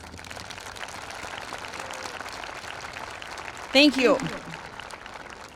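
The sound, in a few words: applause for district staff at a graduation ceremony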